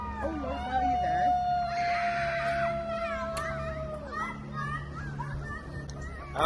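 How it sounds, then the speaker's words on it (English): Children shout and squeal at a distance beside an inland waterway, with a long high-pitched cry sustained for a few seconds amid playful voices and low background hum. "shattered by the sound of children enjoying themselves"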